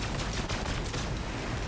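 Rapid automatic fire from the Nighthawkin gun in Borderlands 3, a dense continuous burst of shots with no gaps, loud and unbroken for its whole short length.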